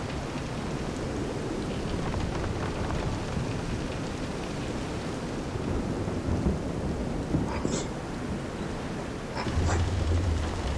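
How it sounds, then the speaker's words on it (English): Thunderstorm at sea aboard a pitching boat in the Visions of Mana game: steady dense rain and wind roar with low rumbling thunder that swells near the end, a few brief sharper hits, no talk. "This is some storm."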